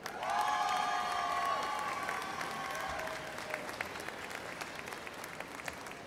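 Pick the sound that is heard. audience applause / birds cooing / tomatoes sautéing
audience applause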